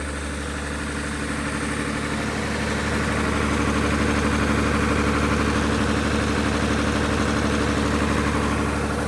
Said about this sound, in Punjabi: ਬਹੁਤ ਪੁਰਾਣਾ ਜਨਰੇਟਰ ਇਹ ਬਣਾਇਆ